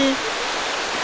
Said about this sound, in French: c'est le cascade. 55 mètres.